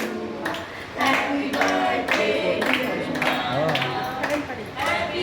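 A group of people claps together at a birthday celebration, the claps close and loud in irregular bursts with a busy room underneath.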